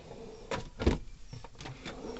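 A kitchen drawer slides open with a few short rumbling and knocking bursts, the loudest thump coming early. Softer rattles follow, close by and with no talk over them.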